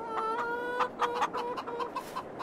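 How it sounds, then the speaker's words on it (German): Chickens cluck in Farming Simulator 22, a run of short clucks and a few brighter squawks in an uneven rhythm, fairly close and clear with no talk over them. "Ihr macht das toll, ihr kleinen süßen Hühnerchen."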